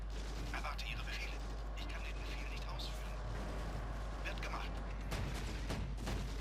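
Tank cannon fire and battle noise in the World War II video game Stalingrad, a T-34 trading shots with a German F2 tank, with sharp cracks and bursts over a steady low rumble throughout.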